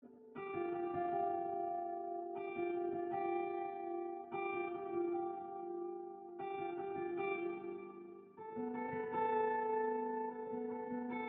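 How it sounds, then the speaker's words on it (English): A third guitar, drenched in reverb, plays sustained chords in a song mix, coming in with several clear changes across the section alongside the rest of the instruments, with a steady, full sound throughout. "This third guitar that I added here comes in on another section and it sounds like this."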